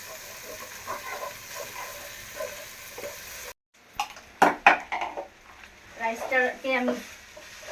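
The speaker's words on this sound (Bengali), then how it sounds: "এখন আমি ঘি দিয়ে পেঁয়াজটা ভাজতেছি" Onion frying in ghee with ginger-garlic paste for fried rice: a steady sizzling hiss, a brief silent break, then louder, uneven clatters and scrapes of stirring over the frying.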